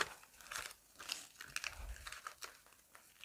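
A paper packet crinkles and rustles up close in short, uneven bursts of crackling handling noise, with no one talking.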